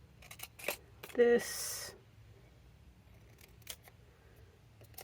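Scissors cut through paper for a dual-side popup page with a pocket, giving a brief close snipping burst amid quiet handling sounds, with a voice speaking a word nearby.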